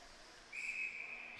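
A referee's whistle sounds at an ice hockey semi-final game, one sustained shrill blast of about a second, fairly faint and distant over arena background noise.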